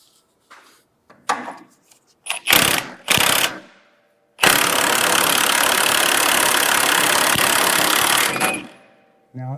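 Impact wrench tightening a pitman arm nut on a Chevy 2500 steering linkage, first in a few short bursts, then one long sustained run of about four seconds, close and loud.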